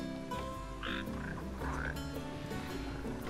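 Croaking of red frogs in Final Fantasy XV, several throaty calls in irregular bursts over a steady game background.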